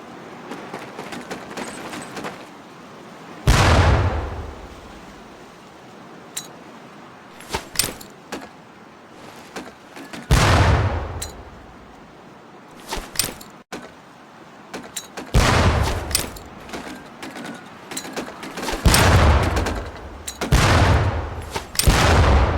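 Training grenades in Medal of Honor: Pacific Assault explode one after another with loud booming blasts at irregular intervals, separated by smaller clanks and clicks.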